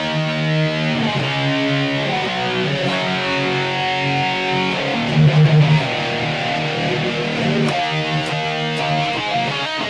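An electric guitar played through a BOSS eBand with chorus and distortion, sustained chords and notes ringing with a shimmering, wavering modulation, loud and upfront.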